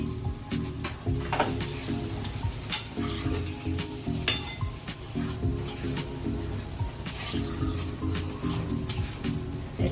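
Snake gourd and potato posto fries in oil in a pan, giving a steady sizzle throughout, with a spoon or spatula scraping and stirring and occasional metallic clinks against the pan.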